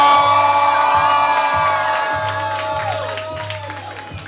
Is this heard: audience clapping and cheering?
yes